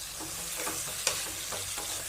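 Prawn gravy with masala sizzling in a pan while being stirred, a steady close frying hiss broken by soft scraping strokes and one sharp clink of the spoon.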